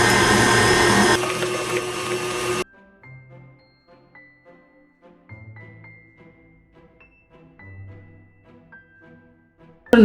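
Electric mixer beating cake batter for a chocolate Swiss roll until thick and creamy, a steady loud whir for a couple of seconds that then cuts off, leaving faint clinks and quiet background sounds.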